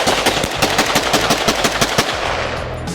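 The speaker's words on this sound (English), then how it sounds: "Joey's letting me shoot his Glock" Glock pistol shots fire in a rapid, loud series at an outdoor range, a dozen or more sharp close cracks in quick succession with no talking.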